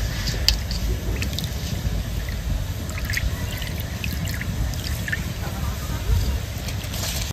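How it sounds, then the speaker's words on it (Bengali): Soaked rice goes into boiling water spiced with whole garam masala, cinnamon, cloves and cardamom, making a steady bubbling, churning wash with faint scattered clicks, loud and close throughout. "এবার আমি দিয়ে দেবো ভিজিয়ে রাখা চাল।"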